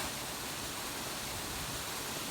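A waterfall in the South Wales countryside gives off a faint, steady rushing hiss that stays even and unbroken from start to finish.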